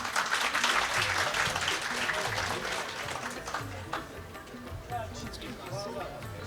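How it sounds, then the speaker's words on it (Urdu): An audience at a multilingual mushaira applauds a poet being called up, with sustained moderate clapping that gradually eases, and a voice speaking faintly underneath. "آپ سب کی بھرپور تالیاں"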